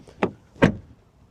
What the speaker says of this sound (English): Door closing sound.